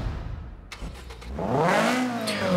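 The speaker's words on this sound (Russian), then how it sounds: "Давайте заведем автомобиль и послушаем звук двигателя." Honda Prelude in Forza Horizon 4, the engine cranking and catching with a few sharp bursts, then revving up in a rising and falling mid-pitched whine, close and loud with no talk.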